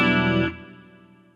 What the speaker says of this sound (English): So a bit of reverb, no delay on that one.